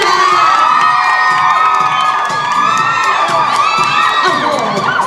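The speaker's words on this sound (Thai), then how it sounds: "ขอเ สียงปรบมือ ดังๆต้อนรับต้น AFC ด้วยค่ะ" A large expo audience cheers and applauds to welcome a guest on stage, loud continuous crowd noise with high shouts and whoops, including children's voices, filling the whole stretch.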